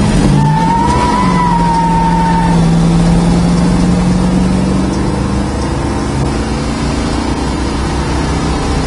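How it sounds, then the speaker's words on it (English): A steady low engine rumble holds throughout, with a rising whine at the start; a 1969 Dodge Charger idling nearby, fairly loud, no voices. "Nice sound of the exhaust, not too loud."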